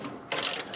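A single short burst of ratchet clicks as a bolt is tightened on a Huskee LT 4200 riding mower, close and fairly quiet, with no talking.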